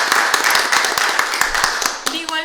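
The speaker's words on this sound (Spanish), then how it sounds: "Un fuerte aplauso también," Audience applause at a round-table panel event, brisk irregular clapping from many hands filling the room, fairly loud and close, fading slightly toward the end.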